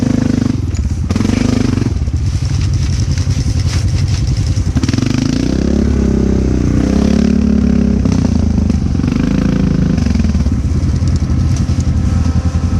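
Honda Rubicon ATV engine revving hard while towing a stuck Polaris ATV, a loud, close, continuous rumble with rising and falling revs and occasional clatter over about thirteen seconds.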